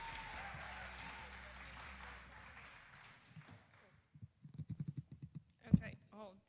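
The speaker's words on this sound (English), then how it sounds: "Y'all clap all the way to the stage." Audience applause at a poetry slam, a broad wash of clapping for about four seconds that thins into scattered claps and stray noises before fading out.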